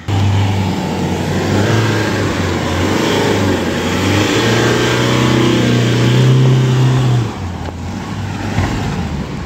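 A car engine revs hard and strains, then settles, on a muddy road blocked by a landslide, loud and close throughout with no voices.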